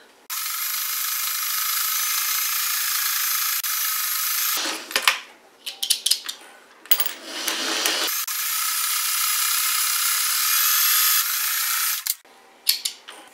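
A sewing machine stitches an X through flannel rag quilt squares, running in long, loud, steady bursts with short pauses and quieter handling noises between runs.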